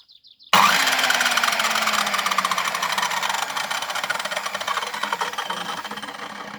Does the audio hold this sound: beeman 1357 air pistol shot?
no